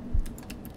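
Short burst of typing on a computer keyboard, a few quick soft key clicks with one heavier thump at the start, close and quiet with no talking.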